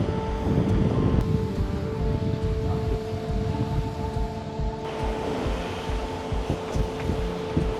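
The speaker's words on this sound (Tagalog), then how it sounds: "Lakas ng alon, no?" Strong wind sweeping a rugged coastline on Itbayat island in Batanes, a loud, constant roaring rush buffeting the microphone, with the churning wash of heavy ocean waves underneath.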